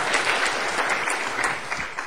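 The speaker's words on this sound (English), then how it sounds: "I think we should give Fred a big round of applause." Sustained applause from an audience at a teaching talk on using technology, a dense steady clatter of many hands clapping, close and continuous with no voices over it.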